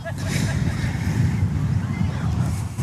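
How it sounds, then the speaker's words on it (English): Wind roars and gusts across the microphone in a continuous low rumble at an outdoor rugby league match, with faint sounds underneath and no clear speech. "It is windy."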